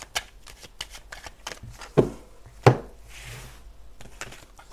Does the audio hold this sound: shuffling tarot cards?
yes